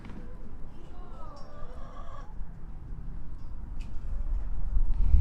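Farm chickens clucking and murmuring around a roosting tree, low scattered fowl calls under a steady outdoor rumble, with a faint voice briefly in the background.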